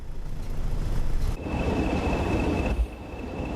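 A diesel train engine idles with a steady, loud low rumble and a thin high whine, nearby and without speech, the sound easing briefly near the end.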